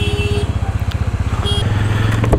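A Bajaj Pulsar N150 dual-disc motorcycle ridden on a wet road in the rainy season, its steady engine drone running continuously and loud close up, with a faint crackle of spray alongside.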